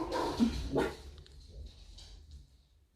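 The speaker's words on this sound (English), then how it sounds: "Oh, there's a dog starting." A dog barks a few times from some distance, the first two barks loudest, then fades into quieter yips under a low indoor background hum.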